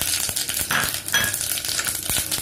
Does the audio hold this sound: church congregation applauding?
no